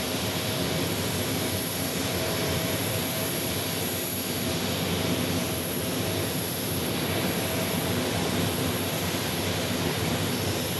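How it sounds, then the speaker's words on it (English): An Airbus A321neo airliner passes, a steady broad jet roar holding at constant loudness throughout, with no voices. "Here's our A321neo."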